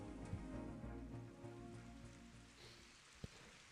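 Rain falls in the racing game Golden Lap during a race at a high-elevation, bumpy, anti-clockwise Brazilian circuit, a faint, steady patter under low tonal engine or music hum, with a couple of brief clicks.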